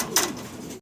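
A Modena pigeon gives a single short, soft coo at close range, with a faint hum of surroundings behind it.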